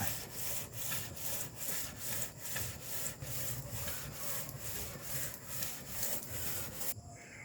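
Steady back-and-forth scraping of sandpaper on a metal cylinder head being hand-refaced, rhythmic strokes about twice a second, close and continuous, stopping abruptly near the end.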